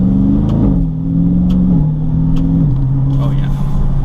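A car engine droning steadily in 5th gear on the road, a low constant hum with small pitch shifts, with someone talking over it.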